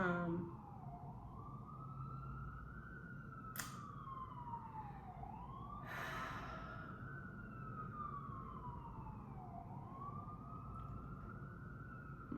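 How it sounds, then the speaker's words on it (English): Distant sirens wail in long rising and falling sweeps, faint and steady, with a couple of brief sharp noises in between. "The sirens."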